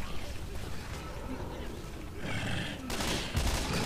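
Rapid bursts of gunfire in a Left 4 Dead 2 zombie-shooter match, loud and dense, thickening toward the end amid game noise and voices.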